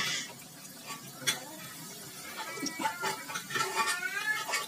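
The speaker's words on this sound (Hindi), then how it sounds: "अब हम फ्राई करेंगे अपने रोल को। इस तरह से अपने रोल को फ्राई कर लेंगे।" Keema spring rolls fry in hot oil over low heat, giving a steady soft sizzle with occasional stirring clinks and scrapes close by, with no talking.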